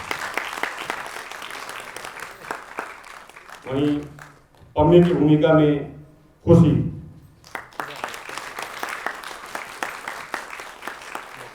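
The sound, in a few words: audience applause welcoming actors on stage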